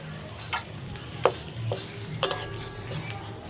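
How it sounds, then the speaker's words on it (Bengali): Sugar and a few bay leaves frying in mustard oil in a kadai, heard as a steady low sizzle with a few sharp clinks and stirring scrapes of a utensil against the pan, close by. "তেলের মধ্যে দিয়ে দিচ্ছি 1 চামচ চিনি, দিচ্ছি কয়েকটা তেজপাতা"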